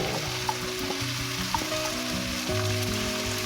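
Onions hit hot oil in a pan with shrimp and baby corn, giving a loud, steady close sizzle with a few sharp pops and crackles, no voices.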